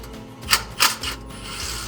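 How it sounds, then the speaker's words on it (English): A ratchet fitted with an 11mm socket works the carburetor nuts loose on a 1964 Ford Galaxie 500, giving two quick, bright clicking bursts close up, then a softer, steadier mechanical rasp. "we need our 11mm socket"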